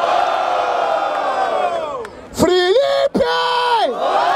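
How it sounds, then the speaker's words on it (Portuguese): Crowd at a street rap battle cheering and yelling, a sustained roar of many voices with sharp whoops and shouts rising and falling, loud and close. "Barulho para as rimas do Moita Trata!"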